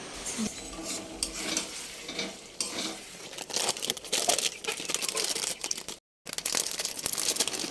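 Spice paste with ground chili being sautéed and stirred in a pan with a little water and sauce, loud close sizzling under busy scraping and clinking of a spoon against the pan, briefly cut off near the end.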